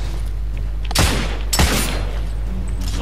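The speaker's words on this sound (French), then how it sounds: "Il y en a un qui me canarde, mais je sais plus où." Enemy gunfire in the video game The Order 1886 cracks out in two sharp, loud bursts about half a second apart over a steady low background hum, with no talking.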